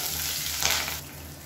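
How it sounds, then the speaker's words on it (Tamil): Curry leaves and a slit green chili fry in hot oil for a beetroot masala poriyal, giving a steady close sizzle that swells briefly in the middle and then settles. "இப்போ எல்லாமே நல்லா பொரிய ஆரம்பிக்கும்."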